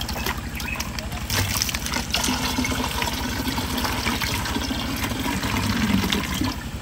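Water poured and stirred in a mixture of bleach solution for treating chicken colds, a steady trickling, sloshing wash running throughout at moderate level with faint voices underneath.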